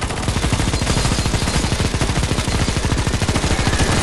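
Rapid, unbroken automatic fire in a CS:GO zombie escape round, a loud dense stream of evenly spaced shots filling the whole stretch with no voices.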